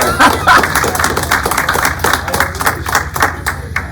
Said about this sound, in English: Let's give Nathan a round of applause again.